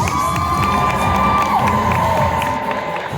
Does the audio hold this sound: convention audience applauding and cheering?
yes